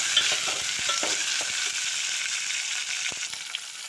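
Tomatoes sautéing in a pan give a steady, close sizzle with scattered light scrapes and taps of stirring throughout, no voices.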